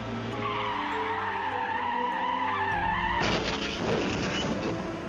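Car tires screech in a long continuous skid as the vehicle swerves sharply on a quiet road, loud and close, with a rising, harsher squeal toward the end.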